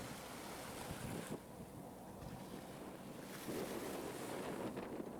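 Ocean water and waves wash continuously onto a beach at Ocean Cay, with steady gusts of wind buffeting the microphone throughout and a slight swell of surf noise near the end; no voices are heard.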